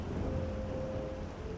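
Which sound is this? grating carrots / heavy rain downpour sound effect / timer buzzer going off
heavy rain downpour sound effect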